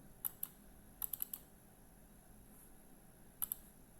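A computer mouse gives faint, crisp clicks, some single and some in quick clusters, scattered across a few seconds over a quiet background hiss.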